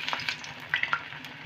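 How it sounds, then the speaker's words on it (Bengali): Bitter gourd (karela) pakoras frying in oil over low heat, a steady soft sizzle with a few brief crackling pops, close up and alone. "আমি ওই সাইডে এইভাবে লাল লাল ভেজে নেব"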